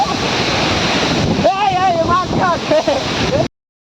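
Ranpat waterfall, hidden in the Konkan countryside, roars as a constant loud wash of rushing water, with people's voices rising over it before the sound cuts off abruptly.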